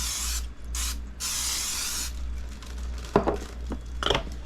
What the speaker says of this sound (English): I just have a spray olive oil.